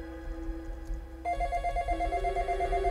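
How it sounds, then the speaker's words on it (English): A telephone in the video game Final Fantasy VII rings nearby, a steady electronic trill that grows louder partway through and continues without pause; no voices. "Oh damn, the phone."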